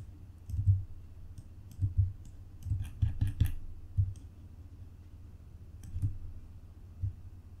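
A computer mouse gives soft, close, dull clicks, some single and some in quick clusters, spread out over a quiet background.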